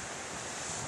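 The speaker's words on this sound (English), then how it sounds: "Waves coming in here." Ocean waves rush against a rough, sharp rocky shore at a blowhole, heard as a continuous loud wash of surf mixed with wind noise on the microphone.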